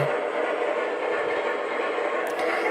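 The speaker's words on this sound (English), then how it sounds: "it is a wonderful choo-choo train" A model toy train without a fan-driven smoke unit runs steadily on its track, giving a continuous close rumble and whir at an even level throughout, with no talking.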